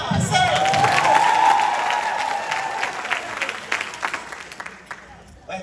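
Audience clapping with some cheering at a Jamaica 60 launch reception, fairly loud and continuous at first, then thinning into scattered claps that fade out.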